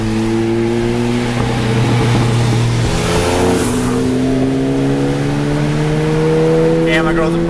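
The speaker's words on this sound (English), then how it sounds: "She just did a flyby on me with my own Evo." A Mitsubishi Evo sweeps past in a flyby, its engine note rising and falling steadily over several seconds as it drives by at a distance, with brief talk over it.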